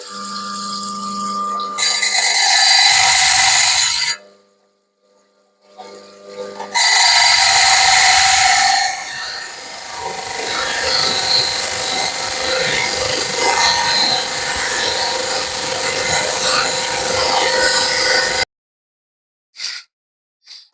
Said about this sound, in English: while I was on the trim saw, um, a little bit of the stone fractured off the top